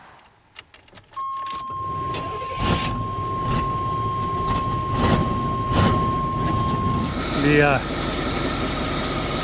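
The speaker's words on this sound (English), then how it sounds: "we'll go ahead and try starting it with that" A plow truck that has sat unused since the last snowfall starts after a jump start: a starter whine and key noise, then the engine catches and settles into a steady close idle, with a brief voice heard near the end.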